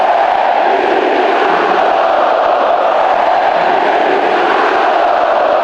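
Flamengo supporters packing a stadium, chanting in unison to taunt their rivals: a dense, continuous wall of crowd voices that stays loud and even throughout.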